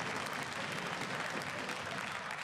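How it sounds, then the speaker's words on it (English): A crowd at a League of Legends esports match, H2K vs G2 in the EU LCS, applauds and cheers continuously, a dense wash of clapping and voices heard at a moderate distance. "You can hear the energy of the crowd."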